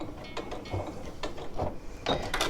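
A sewing machine runs a short locking stitch on a reversible tote, giving a few brief mechanical bursts of clicking and whirring separated by pauses.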